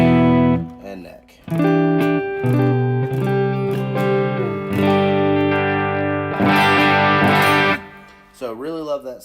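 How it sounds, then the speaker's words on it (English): An electric guitar through a Line 6 Helix plays sustained chords with a shimmering, wavering chorus effect and some distortion, ringing out loud with short pauses between phrases. "It's a really great chorus"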